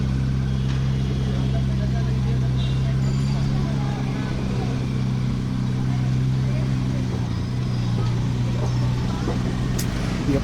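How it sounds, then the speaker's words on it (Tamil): A BMW sports car idles with a steady low engine rumble, close by and continuous over street background noise, with voices talking nearby. "ஸோ அப்படியே பார்த்த பிஎம்டபிள்யூ கார் தான். இதோட சவுண்ட் கேளுங்க."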